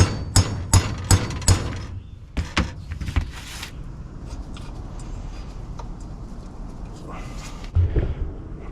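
A part being hammered back into a Husqvarna zero turn mower, a quick run of sharp metallic strikes up close, then a few scattered knocks and a quiet stretch before another brief tap.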